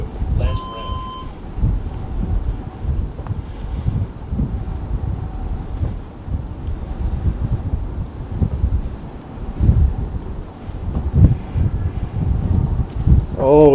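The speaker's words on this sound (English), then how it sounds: "it's jolly windy up here today" Gusty hilltop wind buffeting the microphone with low rumbling roar that swells and eases throughout, under a person talking during an outdoor workout.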